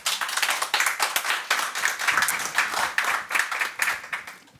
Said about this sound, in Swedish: Jag tycker vi ger dem en applåd.